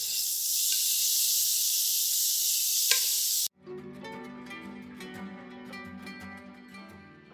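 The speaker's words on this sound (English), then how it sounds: "our bacon's rendered down pretty good" Bacon renders in hot oil with a steady, fairly loud sizzling hiss for a few seconds, then the frying cuts off abruptly and music takes over.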